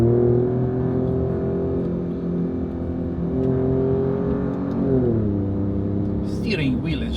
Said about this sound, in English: And the car sounds brilliant. Very nice sound. Listen to that.